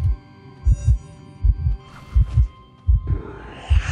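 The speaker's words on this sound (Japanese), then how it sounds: "心音バクバクしてますね" Loud warning heartbeat from the Identity V game, a deep double thump repeating about every three quarters of a second over a faint background hum, steady and close, no voices.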